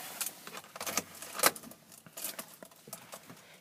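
Car keys jangle close by in quick, irregular metallic clinks while a vehicle is being started, soft overall with no voices.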